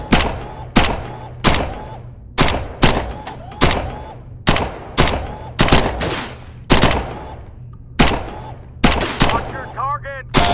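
Submachine gun fire in the Gun Club VR shooting game, repeated sharp bursts of rapid shots spaced about a second apart, loud and close, with brief mechanical rattles between.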